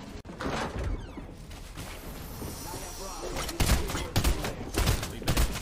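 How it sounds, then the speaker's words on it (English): Rapid bursts of gunfire ring out in a multiplayer shooter match, several loud cracking volleys clustered near the end over steady game noise, with a player talking over them. "Shots."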